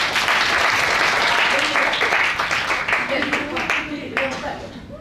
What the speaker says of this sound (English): Ernest, round of applause for Ernest, please.